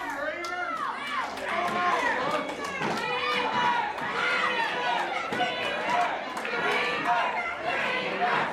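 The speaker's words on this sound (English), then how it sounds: "This crowd again with the Dreamer chants." A wrestling crowd chants for the wrestler Dreamer, a dense roar of many voices rising and falling in waves, with a commentator talking over it.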